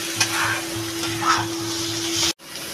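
Prawns are stir-fried in a pan for a Bengali kosha, a steady hiss with rhythmic scraping strokes of a spatula and a low constant hum beneath, cut short by a sudden break near the end.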